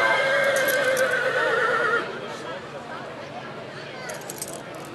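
A Peruvian Paso horse at the patronal festival parade of San Savino in Ivrea whinnies loudly and close for about two seconds, followed by hoof clip-clops and crowd noise.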